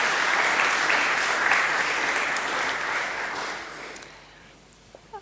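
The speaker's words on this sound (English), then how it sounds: "Let's give Mr. Hartzenberg another round of applause" Audience at the 2021 Neil Aggett Memorial Lecture gives a full round of applause, loud and sustained before thinning out, with a few last scattered claps at the end.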